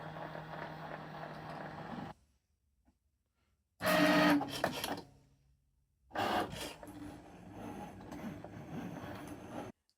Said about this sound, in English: Cricut's finished cutting this again